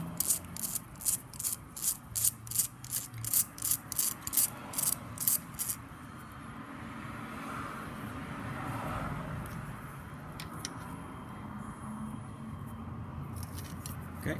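A hand ratchet clicks in quick regular bursts while backing out an 8mm bolt on the rear brake reservoir of a 2007 Suzuki GSX-R1000, then falls silent, leaving faint shuffling and handling noises.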